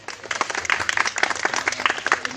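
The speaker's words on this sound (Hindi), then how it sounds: "आप उनके लिए भी जोरदार तालियां बजाइए।" Audience claps loudly at a community gathering at a foundation office in Amravati, a dense, steady patter of many hands lasting throughout, with a faint voice underneath.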